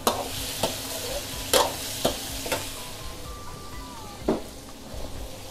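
Shrimp stir-fries in a pan under a constant sizzle, with sharp, close scrapes and clanks from stirring every second or so.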